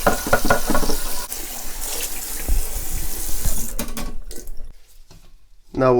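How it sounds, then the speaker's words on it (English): A pot is rinsed under a running kitchen tap, with steady splashing water and a few knocks of the pot against the sink, close up, before the flow cuts off and a voice speaks briefly. "Give your pot a rinse."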